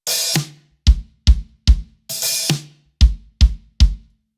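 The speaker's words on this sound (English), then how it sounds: "he does a little response with an open hi-hat leading into the snare" A drum pattern played twice: a sizzling open hi-hat wash choked off, followed by three sharp snare hits, close and crisp.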